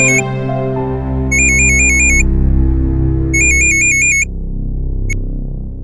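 A telephone ringtone sounds loudly in repeated electronic bursts, layered over dramatic music in a Hindi TV crime drama scene, with no talking.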